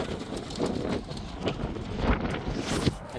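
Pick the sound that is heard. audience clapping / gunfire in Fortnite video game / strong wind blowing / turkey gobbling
strong wind blowing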